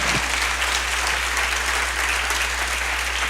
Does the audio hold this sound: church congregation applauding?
yes